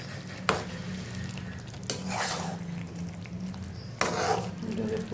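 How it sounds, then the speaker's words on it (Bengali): Soybean kofta gravy bubbles in a pan, giving a steady close simmering hiss broken by three sharp clicks or scrapes, with a faint hum underneath. "এটাকে একটু ফুটিয়ে এরকম হবে একটু গ্রেভি।"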